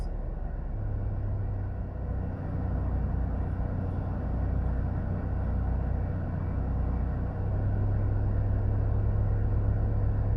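A car drives along the main road beside a new, partly finished section of the Southern Coastal Highway in Jamaica, a steady low rumble of engine and road noise lasting throughout, with a stronger hum toward the end.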